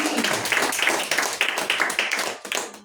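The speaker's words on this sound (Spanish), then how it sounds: "¿Alguien puede darle un aplauso al Señor Jesucristo?" A church congregation claps together, a steady mass of overlapping handclaps with rhythmic peaks, fairly close and continuous for a few seconds.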